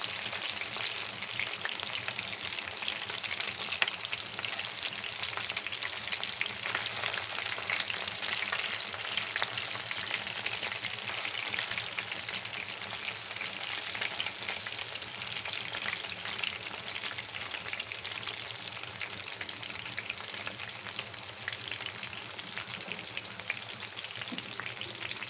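Chicken pieces fry in hot oil for crispy fried chicken, a dense, steady sizzle and crackle that runs unbroken and evenly loud the whole time, with no voices over it.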